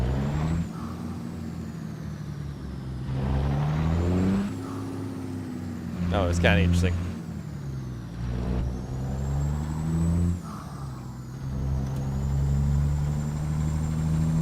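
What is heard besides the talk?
semi truck engine revving under full throttle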